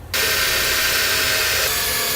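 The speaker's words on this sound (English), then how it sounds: "Now we can go ahead and drill out our small pilot holes." A steady, continuous mechanical whine of a power drill boring pilot holes through truck bed metal, loud and close, running unbroken for a couple of seconds.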